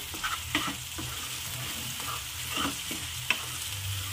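Thick dhaba-style paneer masala gravy being stirred in a pan, a continuous bubbling sizzle with repeated scraping strokes of a spoon at an even pace, close up and without any voices.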